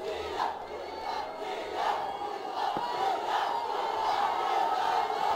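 Stadium crowd at a BPL cricket match roars and cheers, a broad, sustained swell of voices with whoops rising and falling, heard from within the stands at moderate loudness.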